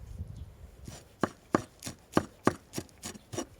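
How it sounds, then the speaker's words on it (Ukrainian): Fast, sharp knife strokes finely chopping parsley on a cutting board, about ten crisp chops in a steady rhythm, close and clear with no talking. "Нарізаю петрушку також дрібно."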